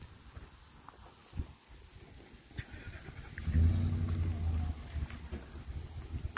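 Rain falls steadily in Monument Valley, a continuous soft hiss with scattered drops and taps, joined midway by a low humming engine-like drone from a Jeep Cherokee XJ.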